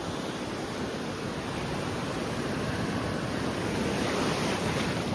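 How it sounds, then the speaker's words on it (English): Strong ocean waves break and surge at a sunny winter beach, a loud, continuous broadband roar of surf with wind noise buffeting the microphone throughout. "the waves are so strong"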